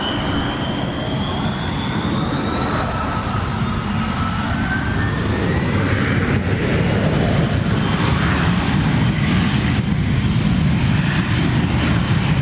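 Aircraft engine noise drones steadily near a hangar, with a rising whine sweeping upward over a broad, rumbling roar and no talking.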